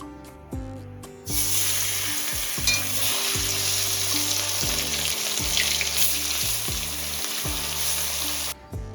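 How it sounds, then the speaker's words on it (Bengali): Loud, steady sizzling as stingray fish pieces fry in hot oil, starting abruptly and continuing close up, with faint background music underneath. "এবার মাছগুলোকে এক এক করে ছাড়বো"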